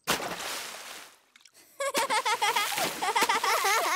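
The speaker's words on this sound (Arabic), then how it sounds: "لكن ليس عليك رش كل هذا الماء." A cartoon pig splashes water in a swimming pool, with a short burst of splashing followed by brief quieter splashes, all under a voice and bright music.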